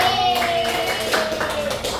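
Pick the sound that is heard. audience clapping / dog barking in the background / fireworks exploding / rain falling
audience clapping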